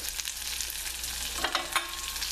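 Small onions with spinach sizzling and frying in a pan, a soft continuous crackle with a couple of brief stirring scrapes near the end.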